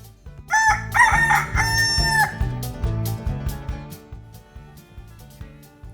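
A rooster crows once, a loud drawn-out cock-a-doodle-doo near the start, against steady rhythmic background music with some clucking-like notes.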